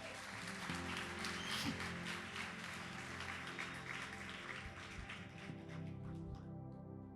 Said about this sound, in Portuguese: Glória a Deus, aplaude Jesus